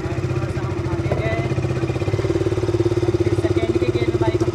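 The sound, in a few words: KTM RC200 motorcycle riding in first gear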